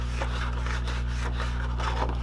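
Card stock folded along a score line for a Z-fold card base, heard as several soft, close scraping rubs over a steady low electrical hum.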